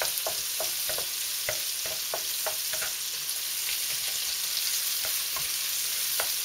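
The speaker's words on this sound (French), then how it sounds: "après la viande, on met de l'oignon là-dedans" Onion sizzles steadily in a hot pan after meat has been browned, a loud, even frying hiss broken by scattered stirring scrapes and clicks, with no one speaking.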